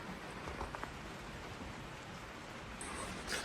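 Rain falls steadily as a soft, even hiss of drops, very faint and distant, with a slight rise toward the end and no voices.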